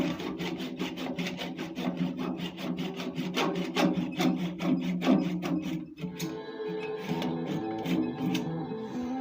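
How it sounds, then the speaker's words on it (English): A small hand pole saw cuts through a wooden turning workpiece to finish a parting cut on a lathe, with steady rhythmic rasping strokes close by, then a brief pause and lighter scraping strokes. "I'm just going to use my little pole saw to finish it off."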